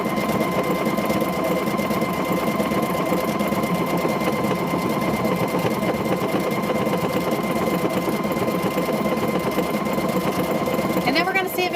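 A sewing machine stitches the final seam of a handmade car seat cover, running in one loud, unbroken whir with a rapid mechanical chatter, ending with a brief clatter as it stops.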